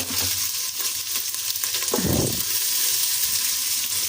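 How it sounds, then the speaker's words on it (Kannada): Basmati rice frying in ghee, a steady hissing sizzle with a short burst of stirring scrape near the middle, close and fairly loud, with no voices. "ಬಾಸುಮತಿ ಅಕ್ಕಿನ ತುಪ್ಪದಲ್ಲಿ ಫ್ರೈ ಮಾಡಬೇಕು"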